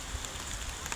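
Steady rain patters on a surface throughout, a dense, even hiss close by with a few slightly louder drops and no voices.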